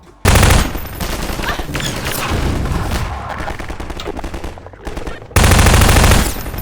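Loud bursts of rapid Half-Life 2 gunfire, with a heavy opening blast, sustained shooting and another powerful volley near the end.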